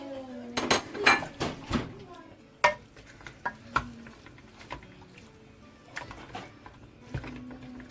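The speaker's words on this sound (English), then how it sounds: "I'm adding minced meat as well." Minced chicken qeema sizzles in a pan while a utensil stirs and scrapes, with repeated clinks and knocks against the metal over a steady frying hiss.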